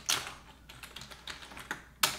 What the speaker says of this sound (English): I'm really not typing well today.